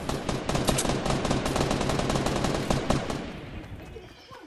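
Rapid automatic gunfire in Fortnite Battle Royale, a dense, loud stream of shots that rattles on for several seconds before tapering off, with no talk over it.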